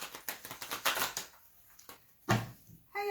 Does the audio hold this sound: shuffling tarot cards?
yes